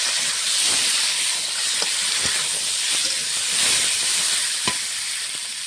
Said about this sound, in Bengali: সবজিটা ভালো করে ভেজে নেব।